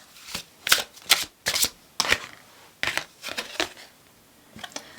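A tarot deck is shuffled by hand in several quick bursts of riffling and flapping cards, each a few tenths of a second long and separated by short pauses, close and crisp in a quiet room.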